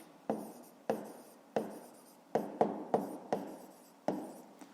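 Pen strokes of someone writing out a fifth-grade math solution about the cost of apples, about eight short scratchy bursts in an uneven rhythm, close and fairly quiet, with no talking.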